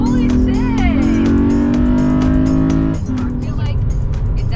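A car fitted with an AEM intake roars loudly at its VTEC crossover, a steady high engine drone with a brief dip and shift in pitch partway through, close and dominant.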